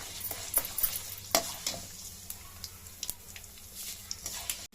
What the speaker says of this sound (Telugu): రెడ్గా అయ్యే వరకు వేయించుకోవాలి దూరగా.